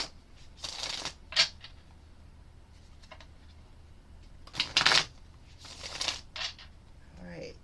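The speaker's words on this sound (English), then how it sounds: "So we're just going to go ahead and pull some cards." Oracle and tarot cards being shuffled close by, soft riffling and slapping bursts at irregular intervals over a quiet background.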